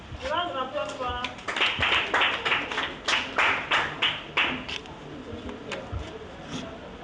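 A small group applauds in a room, with a quick burst of brisk, close clapping that swells for a few seconds and then thins out to scattered claps.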